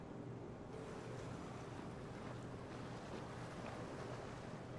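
Waves of open sea in the medieval strategy game Total War: Medieval Kingdoms 1212 AD, a steady broadband wash of surf and wind noise running throughout with no talk over it.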